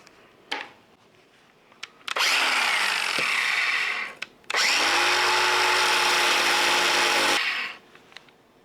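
Power tool fitted with a grinding wheel cutting through metal on a shrinker stretcher throat conversion, two long loud bursts of harsh grinding with a low motor hum, separated by a short pause.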